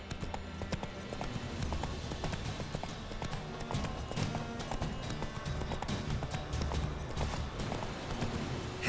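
The horse Roach gallops in The Witcher 3, a steady rapid drumming of hooves that keeps going throughout with no pauses.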